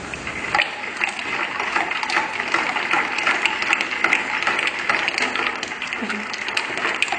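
Oil being mixed with lye solution for soap making, a continuous churning, whirring blend with a wet, splashy texture that stays close and steady throughout.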